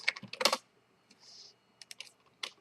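Typing on a computer keyboard during a Blender node-editing session: a quick burst of clustered key clicks, a pause, then scattered separate taps, close and fairly quiet with no talking.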